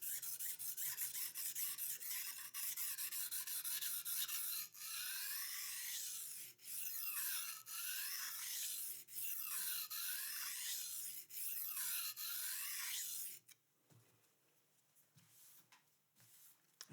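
Japanese petty knife being sharpened on a whetstone, close, rhythmic scraping strokes in steady back-and-forth passes, then stopping near the end with a few faint taps and no talking.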